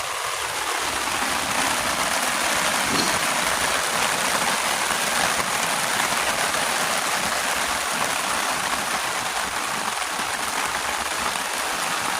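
Heavy rain pours down in a dense, loud, unbroken roar that holds steady throughout with no pauses.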